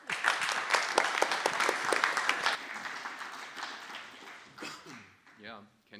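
Audience applause fills a hall at an international blockchain day conference, a dense burst of clapping for about two and a half seconds that thins into scattered claps, followed by someone speaking.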